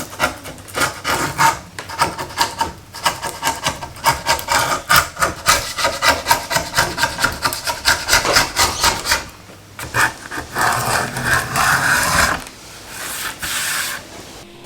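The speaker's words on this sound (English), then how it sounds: "I'll indulge in a quick bit of glue scraping, which is always satisfying." A scraper is dragged across dried glue on wooden panels, giving loud, rhythmic rasping strokes close by, then a few longer continuous scrapes.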